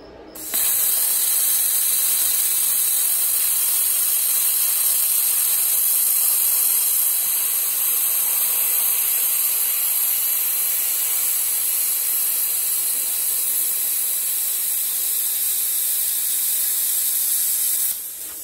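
LOTOS LTP5000D plasma cutter running on 110V at 20 amps against 1/2 inch steel, a steady harsh hiss of rushing air with a high whine, close and unbroken for the whole stretch before cutting off.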